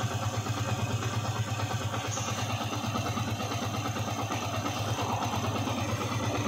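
A Yamaha Vixion motorcycle engine idles steadily with a rough, uneven low throb, close by and continuous, with no voices.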